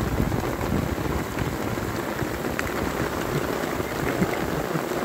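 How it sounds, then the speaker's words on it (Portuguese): Rain pours down over the Bahia backcountry, a steady dense hiss of drops on ground and surfaces that holds evenly throughout with no voices. "A chuva boa que desceu aqui."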